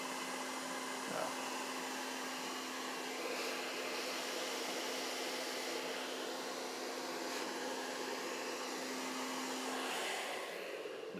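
Hair dryer blowing steadily at medium heat and force while a rockabilly quiff is styled with a precision brush, a loud continuous airy roar with a steady low hum, running alone for about eleven seconds before cutting off.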